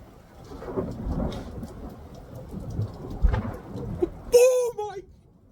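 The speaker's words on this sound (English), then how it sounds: "capture some of this awesome lightning and thunder that's going on right now" Thunder rumbles through a storm with steady rain, a low, rolling roar that swells and fades, before a voice cries out loudly near the end.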